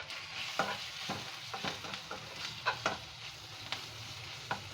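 Ginger garlic paste and turmeric frying in a pan for a spinach and moong dal curry, with a steady low sizzle and repeated sharp scrapes of a spoon stirring, close and alone.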